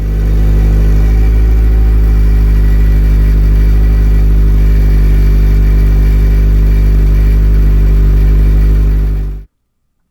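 Honda Ballade Sports Type S exhaust with a failing muffler that rattles, running at low RPM: a steady close engine drone with a busy low rumble and a faint buzzing rattle, which cuts off abruptly near the end.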